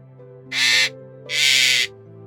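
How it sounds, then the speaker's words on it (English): A parrot gives two harsh, raspy squawks about a second apart, loud and close, over a steady low tonal hum. "A parrot."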